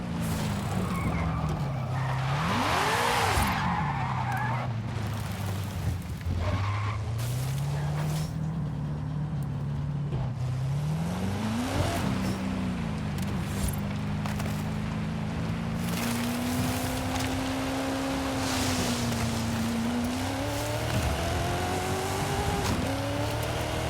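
A 2019 Subaru STI S209 widebody in Forza Horizon 5 climbs a mountain off-road. Its simulated engine rises and falls through revs over constant tire and gravel noise, loud and unbroken throughout.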